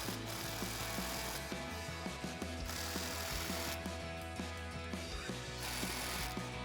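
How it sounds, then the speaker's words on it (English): A 3/8-inch air impact gun with a 15 mm socket hammers steering clamps tight on a Jeep Wrangler JK, producing a rapid, continuous rattling chatter with rhythmic pulses and no pauses. "So now I'm going to take my 15 millimeter, my 3/8 gun, tighten our clamps up here."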